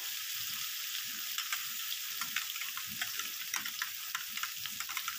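Food frying in a pan crackles and sizzles steadily up close, with a soft hiss underneath and occasional stirring and scraping sounds, and no talking.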